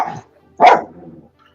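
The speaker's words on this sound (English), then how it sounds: "hear a dog barking" A dog barks once, sharp and fairly close, after a brief muffled yelp at the start, then the sound trails off into quiet.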